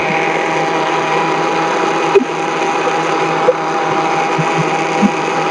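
A blender grinds chicken feed until smooth, a steady close mechanical whirring with a few brief knocks and clunks breaking through.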